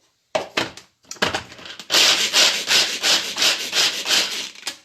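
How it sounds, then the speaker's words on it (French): Rapid, loud chopping of almonds and hazelnuts in a small hand chopper: short scraping bursts at first, then a steady run of rhythmic crunching strokes, close up with no talk. "on va hacher grossièrement nos amandes et nos noisettes"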